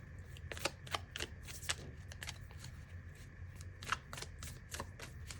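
Tarot cards being shuffled close up and quietly, a series of crisp riffling bursts and flutters at an uneven rhythm over faint background hiss.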